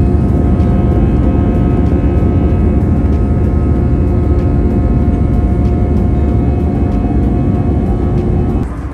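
Steady, loud broadband drone of a passenger airplane cabin in flight, a constant engine and airflow roar with a faint tonal hum, unbroken and without talk until it eases slightly at the very end.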